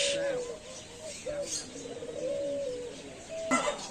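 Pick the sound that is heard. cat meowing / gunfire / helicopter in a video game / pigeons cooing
pigeons cooing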